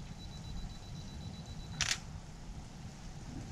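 A single camera shutter clicks sharply once at close range, a test shot taken on a two-second self-timer outdoors on a state park trail, against a quiet background with a faint beep tone before it.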